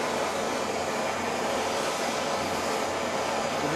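Bergamot brazing torch flame heating flux for silver brazing on stainless steel, brass and copper, a steady close broadband roar holding even from start to finish with no talk.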